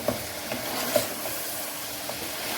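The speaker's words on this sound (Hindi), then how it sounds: "तो यहाँ भी जो इसे हम अच्छे से भून लेंगे" Smooth masala paste fries in a pan for aloo gosht, giving a soft, steady sizzle and hiss with faint stirring scrapes and light clicks.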